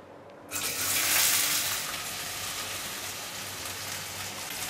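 Onion and dried coconut sizzle as they roast in hot oil in a kadhai, a steady close hiss that swells suddenly after a quiet start and keeps up evenly without talk.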